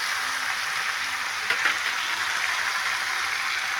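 Thin-cut brinjal, yardlong beans, potato and pointed gourd fry in a pan with a steady, dense sizzle close by, broken by a brief stirring scrape midway.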